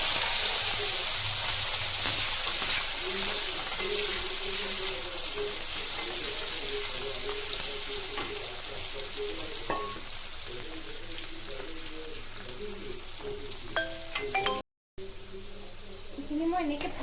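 Mango pieces fry in oil for a sweet jaggery pickle, a soft, steady sizzle that hisses evenly throughout with faint clicks near the end.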